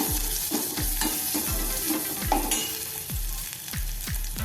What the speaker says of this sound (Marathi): तेल आणि तूप गरम झालेलं आहे थोडेसे आपण जिरे घालूया थोडंसं वन फोर टीस्पून हिंग घालूया